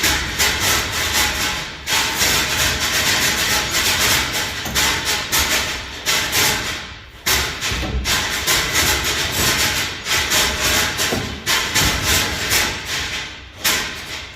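A Volvo 860 with a straight-pipe exhaust runs loud and raw at idle, a harsh rumbling drone with rough clattering pulses that holds steady throughout, briefly dipping a few times.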